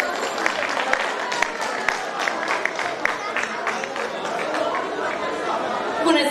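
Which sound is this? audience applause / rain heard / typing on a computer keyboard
audience applause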